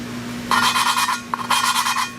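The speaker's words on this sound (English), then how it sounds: "You're raising the valve up and then go back and forth." Valve lapping on a Nissan VQ35DE cylinder head: two bursts of gritty back-and-forth rasping as the valve is rubbed against its seat, close and steady over a faint electrical hum.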